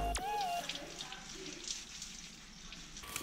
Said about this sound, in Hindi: अब मैं अच्छी तरह इसको पानी से रिंस करूँगा।